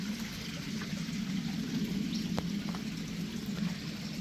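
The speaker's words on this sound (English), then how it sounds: "I thought I'd just like make a waterfall in the middle just to separate the two ponds" A small garden waterfall splashes steadily into a frog pond, dividing two ponds; the water makes an even, continuous rushing and trickling wash, close and moderately quiet, with one faint sharp drip or tick midway.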